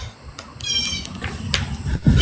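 A house cat meows a few times in a domestic room, harmonic cries mixed with background noise and a louder rustle near the end, moderately close.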